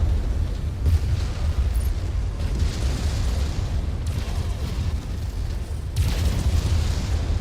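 Mech weapons fire and explosions from the video game MechWarrior 5 roll on continuously, with heavy booming blasts and bursts swelling at intervals over a dense rumbling battle background, loud and close, with no talking.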